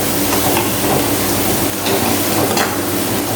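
Turmeric powder sizzling and frying in hot oil in a pan for a dried fish curry, a loud, steady close crackle with faint stirring scrapes, no talk.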